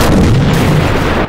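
A single tank cannon blast in a World War II battle game, a loud, heavy boom with a rolling tail that fills the whole brief moment before cutting off.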